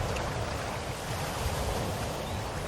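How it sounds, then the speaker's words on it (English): Sea waves ripple and wash gently onto a sandy beach at sunset, a steady, continuous soft surf with no voices. "The waves gently swaying onto the sand, rippling and burbling."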